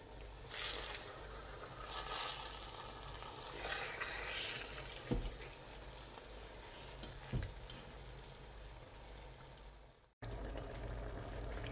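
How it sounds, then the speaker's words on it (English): Prawns in coconut cream sauce simmer quietly in a pan, with a faint bubbling hiss, soft scrapes and a couple of brief knocks as it is gently stirred, followed by a sudden cut to a low steady hum. "I'll leave it to simmer for another 3-4 minutes. Give it a gentle stir."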